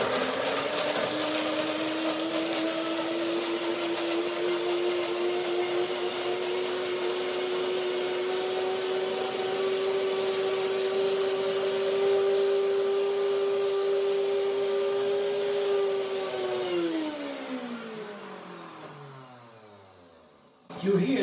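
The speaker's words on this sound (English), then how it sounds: "Blender dance to make my date mousse." A blender whirs loudly and steadily for a long stretch while blending dates into mousse, its motor pitch slowly rising, then winding down and stopping.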